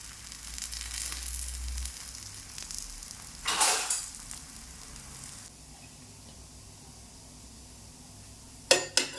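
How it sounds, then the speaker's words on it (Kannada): A pizza base cooks in a pan over a high flame, giving off a steady low sizzle with a louder burst partway through and two sharp clinks near the end. "Ready ಮಾಡ್ಕೊಂಡಿರುವಂತಹ pizza ಬೇಸ್ನ hockey high ಫ್ಲೇಮಲ್ಲಿಟ್ಟು 2 minutes ಬೇಯಿಸ್ಕೊಳ್ಬೇಕು."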